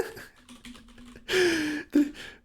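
Quick, light clicks of typing on a computer keyboard patter unevenly for about a second, then a short burst of a voice cuts in near the end.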